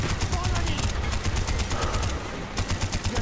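Mounted machine gun in Call of Duty: Black Ops fires steady rapid bursts, loud and close, with a short break near the middle before the rattling resumes.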